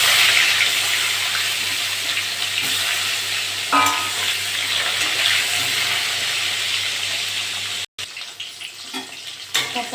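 Pointed gourd (potol) frying in hot oil, a bright, continuous sizzle close up with occasional bursts and a utensil knock, a brief cutout near the end, no voices.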